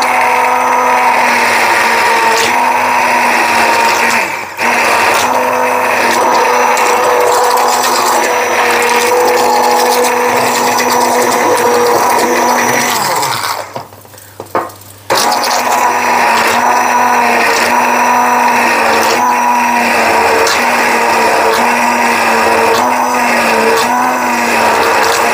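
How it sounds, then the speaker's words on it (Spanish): Immersion blender pureeing a green parsley sauce for hake, a steady loud whirring motor drone running almost the whole time, with a brief drop-out and sputter midway before it resumes. "Entonces le metemos la turni. Ahora no me vais a escuchar porque tengo la turni puesta."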